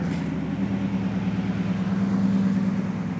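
A 1968 Chevelle SS 396 convertible engine idles steadily just after starting, a low, even rumble that holds constant throughout, close and alone with no talk.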